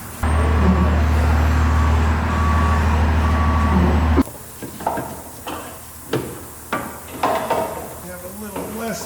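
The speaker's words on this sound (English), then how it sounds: "Wow, that's a big tow truck. It's freaking towing an NPR." A big tow truck hauling an NPR truck gives a loud, steady diesel rumble for about four seconds, then cuts to quieter, scattered clunks and knocks.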